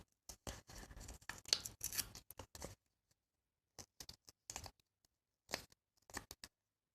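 Paper journal cards being torn by hand in short, crisp rips, with several bursts of tearing separated by brief pauses, close and fairly quiet.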